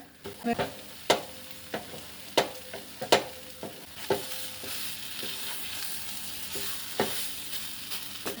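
A thick cabbage sandesh mixture being stirred and scraped in a wok as it pulls away from the sides, with a spatula tapping and scraping the metal in irregular knocks over a steady soft frying hiss, close and without speech.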